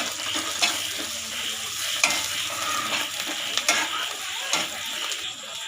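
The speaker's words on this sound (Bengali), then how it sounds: "কুচানો টমেটো দিয়ে দিচ্ছি।" Chopped tomatoes going into frying dal potol in a village kitchen, a continuous close sizzle and hiss with repeated spoon or spatula scrapes and taps against the pan, no voices.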